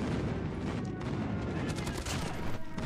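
Rapid gunfire from a gun in a video game, a dense burst of shots layered over a thick, noisy battle mix at moderate level with a faint voice underneath.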